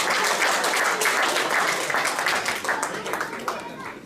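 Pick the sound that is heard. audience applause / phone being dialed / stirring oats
audience applause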